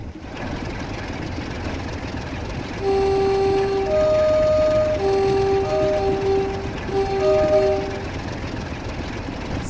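A British Rail Class 47 diesel locomotive in a train simulator throttling up, its engine rumble swelling into a louder steady drone with sustained tonal horn-like notes layered over it, close and continuous.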